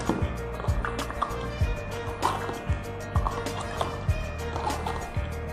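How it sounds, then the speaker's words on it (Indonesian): Water is stirred in a glass after drops of Kangen Water go in, with quiet, regular clinks of the spoon against the glass and soft liquid sloshing, close and faint. "saya aduk."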